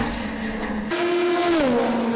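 Race cars at Spa-Francorchamps during the 2017 6 Hours endurance race heading downhill toward Eau Rouge: a steady high engine note, then a louder, closer car whose pitch drops as it passes.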